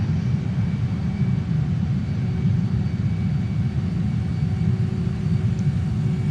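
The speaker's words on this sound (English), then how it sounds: "Flaring, touchdown, reverse thrust engaged, full throttle." Saab JAS-39 Gripen jet in Microsoft Flight Simulator touching down with reverse thrust at full throttle: a steady, loud low roar and rumble that holds level throughout with no talk over it.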